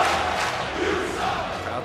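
A short burst of crowd cheering and roaring plays as a triggered sound effect during a wrestling livestream, broad and sustained for about two seconds with no voice over it.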